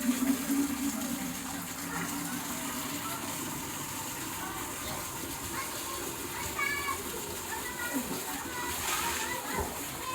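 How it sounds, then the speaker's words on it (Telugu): Water runs from a tap at home and is left flowing to waste, a steady gushing splash that continues the whole time with voices faintly in the background. "ఎందుకు నాన్న అన్ని నీళ్ళు వేస్ట్ చేస్తున్నావు బాబు, ఉత్తగా అవినాషు."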